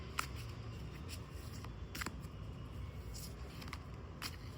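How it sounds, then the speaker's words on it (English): Tarot cards being shuffled by hand, a quiet sequence of soft riffling bursts and brief papery slaps spaced irregularly over a low background hiss. "let's just give it one more shuffle."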